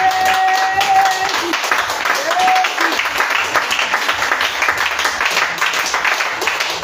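A church congregation claps and applauds together to acclaim the Lord, a dense, sustained wash of hands clapping that holds steady for several seconds, with a few voices and cries mixed in.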